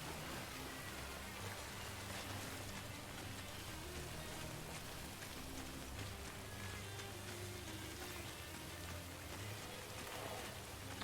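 Steady rain pours down in the video game Death Stranding, a soft, even hiss of falling drops continuing without a break and with no talking.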